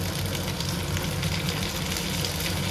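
Loud, steady sizzle of chopped tomatoes hitting hot oil in a pan, a dense continuous frying hiss close up with no talking.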